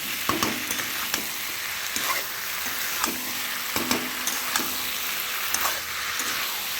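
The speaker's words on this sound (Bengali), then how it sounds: "আলু ভাজা আর পটল ভাজাটা আমি ঢেলে দেবো" Fried potato and pointed gourd tipped into a hot pan with shrimp, sizzling steadily while a utensil scrapes and stirs in regular knocks about once a second.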